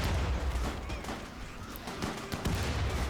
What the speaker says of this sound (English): The grenades are going out